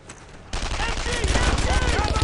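Gunfire in Brothers in Arms: Earned in Blood, a World War II shooter, breaks out suddenly in rapid, dense bursts that grow louder and more continuous while a voice speaks over the shooting.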